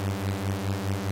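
A sour, detuned two-voice unison synth patch made in Serum holds one sustained note. Its steady buzzy tone carries a regular slow beating wobble throughout.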